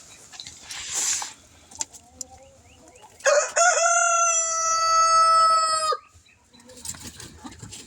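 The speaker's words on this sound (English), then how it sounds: "It's not easy to catch these chickens." A rooster gives one long, loud crow close by, with scattered clucks and rustling from chickens before and after in a quiet barn or coop.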